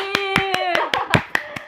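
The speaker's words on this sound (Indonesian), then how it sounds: "Boleh minta tepuk tangannya untuk saya?" About eight crisp, evenly spaced hand claps ring out close by over a sustained voiced tone.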